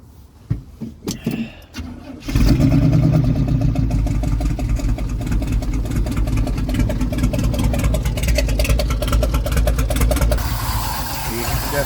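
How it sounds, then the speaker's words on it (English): A car engine with loose rocker arms cranks and catches, then idles with a rapid, steady clatter of lifters ticking over the low rumble, recorded up close; a faint voice can be heard during the startup. "You can definitely hear lifter clattering, especially on the passenger bank."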